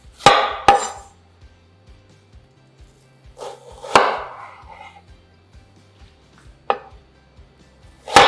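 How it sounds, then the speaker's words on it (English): Half an onion is chopped finely with a knife on a board: sharp, loud, separate chops spaced a second or more apart, each ringing briefly, with quiet gaps between and no speech. "chop finely."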